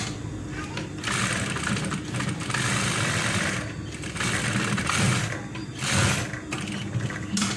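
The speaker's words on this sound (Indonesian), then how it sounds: "Kita jahit biar paten." A sewing machine stitches the button placket of a polo shirt, its close mechanical whirr running in steady bursts with brief pauses between runs.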